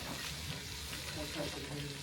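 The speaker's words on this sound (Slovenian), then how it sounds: "na drugi strani pa tlele se pa že cvre" Onions frying in a pot inside a bivouac hut, a soft crackling sizzle with faint stirring, heard quietly and close under low background noise.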